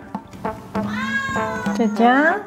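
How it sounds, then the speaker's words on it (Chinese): A talkative kitten meows in several drawn-out, close cries with rising and falling pitch, while someone speaks briefly between them indoors. "毕竟这个话痨猫每天都在叨叨叨。"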